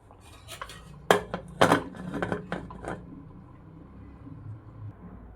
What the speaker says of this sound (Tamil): திரும்ப மூடி போட்டு மூடி வச்சிடலாம்